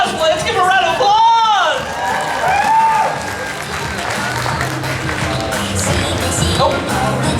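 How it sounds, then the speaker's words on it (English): An audience applauds at a cosplay costume contest at Kraken Con, a steady wash of clapping and cheering that carries through, with a voice calling out over it near the start. "Let's give a round of applause!"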